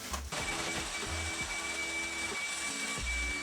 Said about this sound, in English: Quick vacuum. I feel like I just have to continuously vacuum throughout the process.